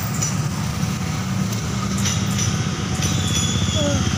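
A JR 205 KRL commuter train on an Indonesian line rumbles past nearby with rhythmic clacking of wheels over rail joints, while a person talks over the passing cars.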